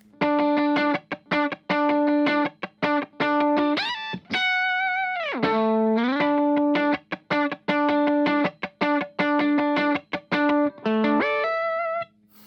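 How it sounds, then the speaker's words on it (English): Distorted electric guitar hook run through a whammy pedal, bursts of choppy repeated notes broken by swooping pitch bends as the octave effect sweeps up and down, loud and solo with no speech. "but if you add the whammy, it sounds like this."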